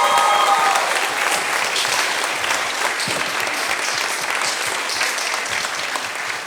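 A live audience at a finance and banking talk event gives sustained, dense applause that stays steady and full throughout, tapering only slightly toward the end.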